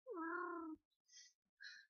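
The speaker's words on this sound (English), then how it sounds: "Go away, cat." Cat meowing close and clear, one long drawn-out meow followed by two short faint chirps, in an otherwise quiet room.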